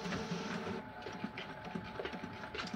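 A printer whirs steadily with a soft mechanical hum and faint rhythmic clicks and ticks, close by, with no voices.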